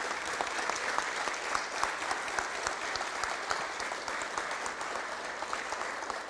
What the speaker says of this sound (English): I want everyone to give them a round of applause